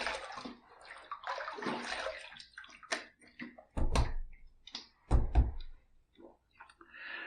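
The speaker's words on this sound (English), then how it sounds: "Let's rinse." A shaving razor, the Aylsworth Drakkant, is rinsed under running tap water after a shave pass: short bursts of splashing and gushing water alternate with light clicks and taps, close by.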